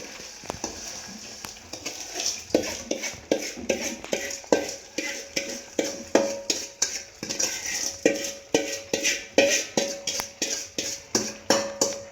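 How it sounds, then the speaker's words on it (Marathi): Steady rhythmic stirring of boondi through hot sugar syrup for motichoor laddu, a spoon scraping and clinking against the pan in quick, even strokes, close and moderately quiet. "आता आपण या पाकमध्ये ही सर्व बुंदी टाकून घेणार आहोत"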